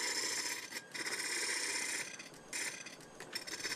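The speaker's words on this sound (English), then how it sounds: "He attaches the timber to the lathe and carves it with a blade as it rotates." A blade scrapes and rasps against timber spinning on a foot-pedal-controlled wood lathe while a round trinket container is carved, giving a steady, close, continuous shaving sound with brief dips and surges as the cut changes.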